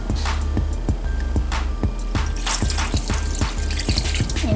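Water poured into a saucepan on a stovetop while mixing baking soda clay, a steady splashing stream with small repeated knocks and clinks running throughout, close and fairly loud.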